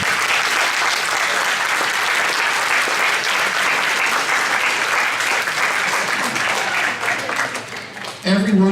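An audience applauds to welcome a 6th grade beginning school orchestra at a Christmas show; dense, steady clapping fills the room for about eight seconds before tapering off at the end.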